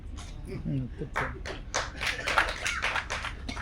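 Sparse clapping from just one or two audience members at a press meeting, a few light uneven claps heard under someone speaking.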